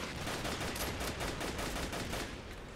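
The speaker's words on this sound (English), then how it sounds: "Davidson, your flak cannon just shot my tank in the ass." Dense, continuous gunfire and rapid cannon bursts from a Men of War battle, with the staccato crackle of machine guns and flak fire holding loud and steady for the whole stretch, with no voices.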